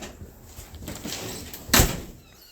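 A door opens with a soft rumble and then shuts with one sharp, loud thud near the end, heard close by against a low background hiss with no speech.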